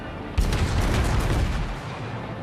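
Heavy naval guns boom in World of Warships from the cruiser Atlanta, a dense rolling barrage of loud, overlapping cannon shots with no talk, close and sustained across the whole moment.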